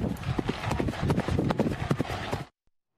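Horse hooves clip-clop in a steady trotting rhythm during a ride at a riding venue, loud and close, a dense run of sharp knocks that stops abruptly near the end.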